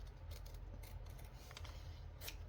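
Scissors cut through thick upholstery fabric in a series of quiet, crisp snips and slicing strokes, faint and close, with no talking.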